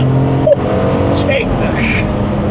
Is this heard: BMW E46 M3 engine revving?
yes